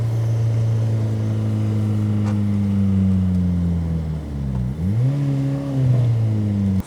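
Car engine droning loud and close as the car is driven on the clutch, holding a steady hum before dipping and then revving back up near the end, with no one talking.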